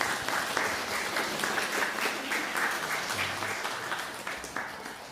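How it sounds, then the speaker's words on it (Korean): A church congregation at a Sunday worship service gives sustained, even applause in a reverberant hall, lasting several seconds and fading slightly toward the end, with no voices on top. "우리 옆에 있는 박수로 환영하겠습니다"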